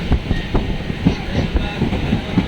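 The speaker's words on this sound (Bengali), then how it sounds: "ট্রেন ছেড়ে দিয়েছে" Clickety-clack of a moving, nearly empty passenger train heard from inside the carriage: a steady rumble with rhythmic wheel clacks over rail joints, loud and continuous.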